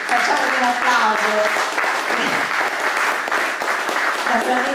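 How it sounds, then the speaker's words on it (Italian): An audience at Villa Castelletti in Signa applauds loudly and steadily, a dense crowd of clapping hands with voices talking faintly beneath it. "facciamo un applauso"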